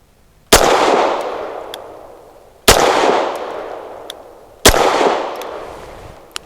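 Three loud, sharp pistol shots from a Grand Power Mk23 firing Blazer aluminum 115 grain ammunition, spaced about two seconds apart, each followed by a long ringing echo on an outdoor range, with no talking.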